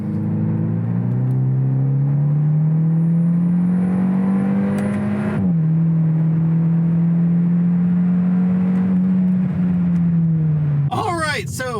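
Hyundai Elantra N Line small turbo car accelerating hard, engine note rising steadily then dropping briefly at a quick short shift near 6,000 RPM before climbing again, loud and close throughout.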